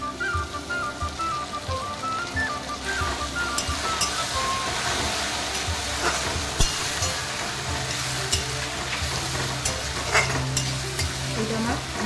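Jackfruit chili chicken with soy sauce, garlic paste and ground pepper stir-fries in a pan with a continuous close sizzle, broken by scraping stirs and light clinks of a spatula.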